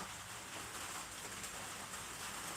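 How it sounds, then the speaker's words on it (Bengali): Dense, steady hiss of rain falling without pause, even and enveloping, with no voices. "অনেক বৃষ্টি পড়ছে"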